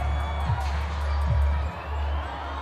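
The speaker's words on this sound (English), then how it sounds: "How about some applause for the defense there?" Stadium crowd cheering and applauding in a football video game, a steady roar of cheers and claps filling the background with a few swells.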